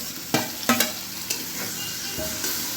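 Halved chillies and chopped tomatoes being stirred in a hot frying pan, a soft steady sizzle with a few sharp scraping clacks of the spatula against the pan.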